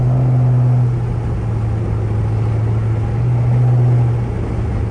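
A rebuilt Dodge Charger R/T engine with long tube headers rumbles close and loud at a steady deep idle, its low exhaust drone swelling slightly twice, with no speech.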